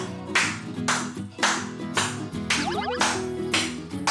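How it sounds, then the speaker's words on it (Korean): Rhythmic health-clapping exercise by a woman doing it as a workout: loud, close claps in regular bursts of rapid hand strikes, repeating in an even pulse, with a brief rattling tap pattern partway through. "우렁찬 박수 소리에 이끌려 찾아온 곳"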